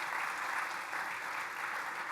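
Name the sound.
audience applause for the sponsors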